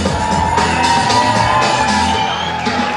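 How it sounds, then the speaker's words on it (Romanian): Audience at a freshmen ball at a technical university in 2009 cheers and shouts for a newly crowned couple, a dense, loud crowd roar with yells throughout. "Așa că puteți să-i aplaudați!"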